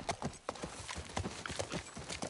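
Ridden horse in The Last of Us Part I, hooves beating out a quick, regular clip-clop close by for the whole stretch.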